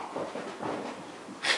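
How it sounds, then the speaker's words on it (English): A dog playing and snorting nearby, soft breathy huffs and snuffles in a low rumbling flurry, ending with a brief sharper snort. "The dog's playing again"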